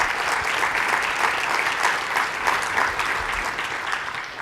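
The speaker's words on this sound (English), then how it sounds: "Let's give them a round of applause." An audience at a keynote address applauds, a dense, even wash of many hands clapping close and loud throughout, fading slightly toward the end.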